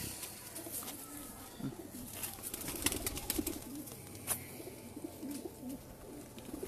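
Sakhi Sahib pigeons coo in a loft, soft repeated throaty calls from several birds close by, overlapping with faint clicks and rustles, quiet and without voices.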